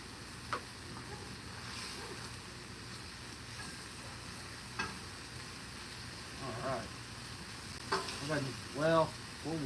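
Shrimp and fish sizzle steadily on a hot Blackstone griddle, with occasional spatula scrapes and taps over the continuous frying hiss.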